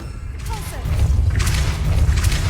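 A Depulso spell cast in Hogwarts Legacy: a short whooshing release followed by a heavy, rumbling thud that swells and sustains with crackling bursts.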